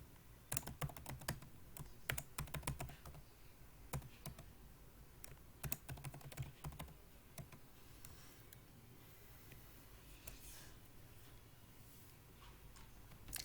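Someone types on a computer keyboard while filling in an Excel spreadsheet, producing scattered clusters of soft, close key taps with brief pauses, thinning toward the end.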